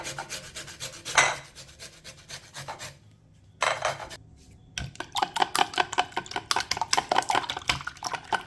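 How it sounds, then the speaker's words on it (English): Lemon rind rasped against a grater for a Jamaican black rum fruit cake, close-up scratchy strokes in bursts with a pause midway, then a rapid run of rhythmic rubbing passes toward the end. "I'm using the zest of a lemon, some of it"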